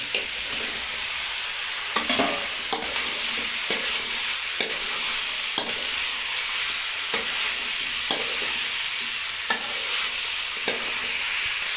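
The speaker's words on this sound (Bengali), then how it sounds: "এবার আমাদের আলু দিয়ে নাড়াচাড়া হবে।" Potatoes are stirred into frying vegetables such as capsicum, radish and eggplant in a pan, with a steady hiss of sizzling oil and a regular series of scraping spoon strokes every second or so, heard close up without voices.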